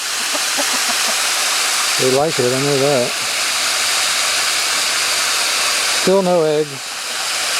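Water pours and splashes steadily into a bowl, a continuous rushing hiss, while a person speaks briefly over it twice.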